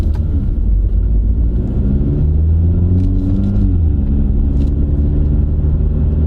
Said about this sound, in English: Here we go up the hill, straining the transmission.